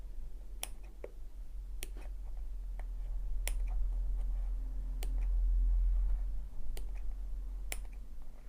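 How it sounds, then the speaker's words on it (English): Sewing scissors make a few sharp, isolated snips through fabric while a bag is assembled, crisp clicks spaced about a second apart over a low steady hum, close and fairly quiet, with no speech. "So I'll just put a couple of little snips in there."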